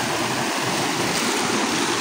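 Clear mountain stream rushing over rocks at Los Chorros in the Huasteca, a steady broadband wash of flowing water heard up close with no voices.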